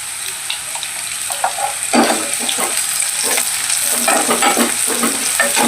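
Shallots, green chillies and tomato fry in a hot pan, a loud bright sizzle broken by repeated scraping stirs close by, with no voices.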